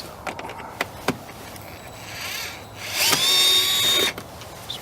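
Power drill backing screws out of a 2009 Ford Flex door lock, a few brief clicks then a rising whine that holds steady for about a second before stopping, close and loud.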